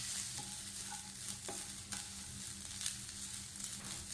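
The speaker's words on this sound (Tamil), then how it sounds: "கொஞ்சம் கருவேப்பிலையும் போட்டுக்கலாம்." Curry leaves sizzling in a pan of white vegetable kurma with cauliflower, a quiet steady frying hiss broken by soft stirring clicks and spoon scrapes.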